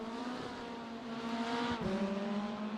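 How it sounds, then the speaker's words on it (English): A BMW race car engine in the RaceRoom racing game drones at steady revs, its harmonic tone rising slightly and dipping once with a brief shift, loud and close with no talk. "Here's a BMW. You can also listen to the BMW."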